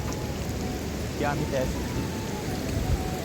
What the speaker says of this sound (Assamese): গাইছ বৰষুণ আহিছে বহুত